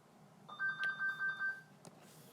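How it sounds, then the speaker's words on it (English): A telephone rings once indoors: a short electronic burst of rapid warbling pulses, moderately faint against a quiet room, followed by a brief click. "Okay, sorry, phone rang."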